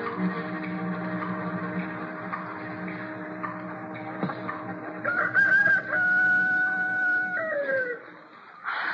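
A rooster crows as a sound effect in an old-time radio drama, a drawn-out cock-a-doodle-doo rising and falling clearly over a low steady hum and some faint clucking.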